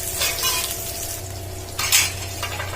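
Sliced onions and curry leaves sautéing for tiffin sambar, a close hissing sizzle with bursts of spatula scraping and a metallic clink against the pan.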